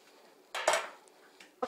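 Grilled balsamic vegetables being portioned into bowls: a soft clatter of a spoon and food landing in a dish, then a few faint taps and a final clink, fairly quiet and close.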